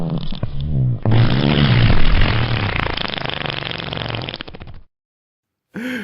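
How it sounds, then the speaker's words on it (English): A run of loud, close, blubbery fart noises, squelchy and drawn out, comes in bursts with a short break, then another brief blast at the end. "It probably makes fart noises when you put your hand in it."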